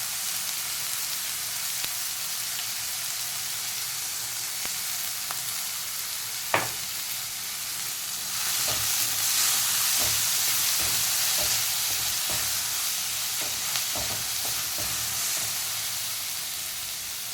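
Chopped capsicum sizzles and hisses steadily in a hot pan, with occasional sharp stirring clinks and scrapes over the continuous frying.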